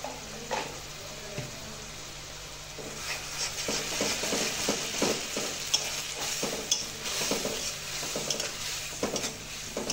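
Spice paste of ground turmeric and cumin being stir-fried in a pan for a potato and egg curry, a steady sizzle broken by repeated scraping strokes of a spoon against the pan, close and fairly loud throughout.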